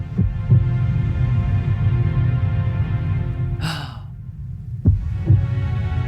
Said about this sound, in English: The heartbeat keeps going even though it's slow